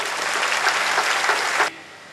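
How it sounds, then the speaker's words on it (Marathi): A crowd at an official ceremony claps together in dense, loud applause welcoming a company's family, holding steady before cutting off abruptly near the end. "आपण सगळे मिळून जॉन कंपनीच्या संपूर्ण परिवाराचं या ठिकाणी मनपूर्वक टाळ्या वाजवून स्वागत करू"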